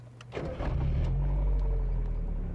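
Mazda Miata autocross race car engine cranking and catching, a brief starter whir followed by a steady low idle rumble close by.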